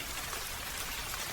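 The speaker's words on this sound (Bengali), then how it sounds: "আর এই টিপটিপ বৃষ্টির মাঝেই হরিদাস নৌকা নিয়ে ঘাটে বসে আছে।" Light drizzling rain on an evening riverbank by a boat landing: a steady, soft hiss of fine drops pattering on surfaces, faint and continuous, with no voices.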